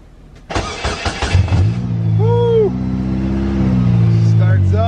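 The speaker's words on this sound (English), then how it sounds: "let's see if we can get this thing to start" A car engine cranks with a rapid starter whir, catches and settles into a steady idle that rises slightly, heard up close in a driveway; people talk briefly over the cranking.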